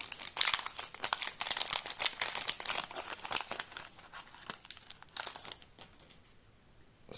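Yu-Gi-Oh Duelist Nexus booster pack wrappers crinkle and tear open in a quick run of sharp crackling bursts, close and fairly loud, thinning toward the end.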